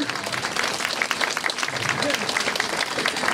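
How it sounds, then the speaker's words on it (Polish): Warm audience applause at a memorial plaque unveiling honoring a Warmian poet and teacher, a steady close wash of many hands clapping throughout. "Wielkie brawa."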